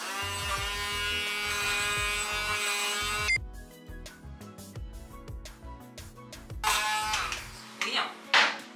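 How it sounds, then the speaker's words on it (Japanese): A hand blender chops garlic for a dipping sauce with sugar and ground sesame. Its motor whines steadily up close, cuts out, then returns in shorter bursts, with someone talking in between. "こういう時に使えるんがハンドブレンダーなんちゃう。"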